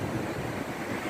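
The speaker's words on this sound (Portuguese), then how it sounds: "O vento hoje, né?" Strong sea wind buffets the microphone beside a fishing boat on rough water, a dense, steady rush with low rumbling and no voices.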